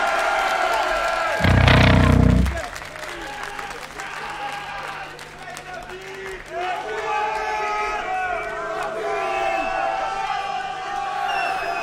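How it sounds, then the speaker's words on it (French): Crowd at a metal festival open air show applauds and cheers, a loud burst of clapping and whoops near the start easing into sustained crowd noise with distant music and voices. "je voudrais que vous fassiez un tonnerre d'applaudissements à notre collègue"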